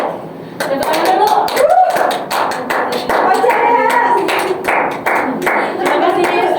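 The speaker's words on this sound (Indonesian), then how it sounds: "Tepuk tangan dulu" Loud, steady applause fills the whole stretch in a classroom: many hands clapping at once, with voices mixed in.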